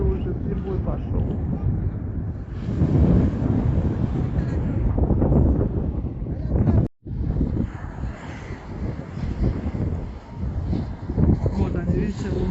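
Sea surf breaks on the shore in strong wind, heavy gusts buffeting the microphone over a rolling wash of waves, with a person talking throughout.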